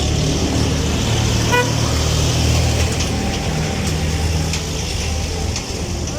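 Street traffic in the narrow streets of Jerusalem's Old City near Al-Aqsa: a continuous nearby rumble of passing cars with a brief horn toot amid crowd noise.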